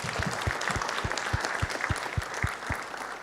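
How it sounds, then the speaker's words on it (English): Audience applause for presenters at a cardiac scientific congress session, a fairly soft, even patter of clapping with several distinct claps close to the microphone. "A clap for them."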